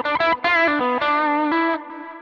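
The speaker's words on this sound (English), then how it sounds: "you can hear that we're getting less saturation compression, but the volume is also dropping quite a bit." An electric guitar lead tone runs through a Quad Cortex with the guitar volume backed off halfway, giving less saturation and compression; a quick run of sustained distorted notes plays, then fades on the last note.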